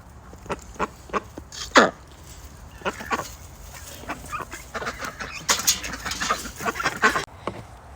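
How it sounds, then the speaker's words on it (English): A farm rooster and chickens, with a duck nearby, give a series of separate clucks and squawks, one louder cry near the two-second mark, over a steady low background with no talk. "this is my head rooster"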